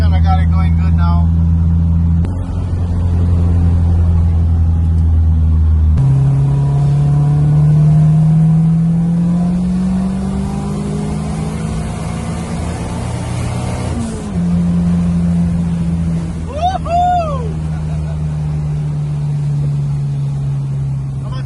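A T27 engine in a 12:1 3TC wagon on a test drive, droning loud and close, with steady revving that sweeps upward, a sharp drop, then renewed pulling under occasional speech.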